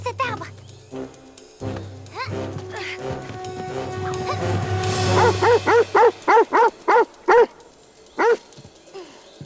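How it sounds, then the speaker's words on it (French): A cartoon dog barks in a series of sharp, evenly spaced yaps toward the end, loud and close, after stretches of French dialogue and background music. "On a entendu le chien, il rôde pas très loin."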